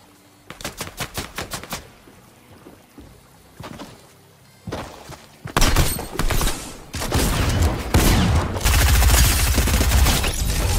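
Gunfire in the video game Fortnite, Chapter 2 Season 11: a quick run of sharp shots early on, then louder, denser bursts of rapid fire and booming impacts filling the second half, with no talk.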